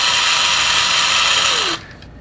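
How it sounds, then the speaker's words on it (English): Small diamond Dremel attachment whirring at high speed along a knife edge to remove the burr, close and loud, then spinning down and stopping near the end. "I'll just take one of my little diamond Dremel attachments and just very carefully run that along the"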